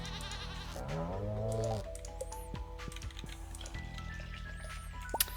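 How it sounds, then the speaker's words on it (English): Goats bleating in the farming video game Stardew Valley, a loud wavering bleat up front followed by lighter game clicks and chimes over a steady musical backdrop. "Milking all the goats."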